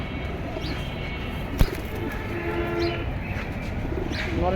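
Pigeons coo softly and intermittently among a crowd of birds at a pigeon market where a female bird is shown for sale. Steady background hubbub runs beneath, with one sharp knock.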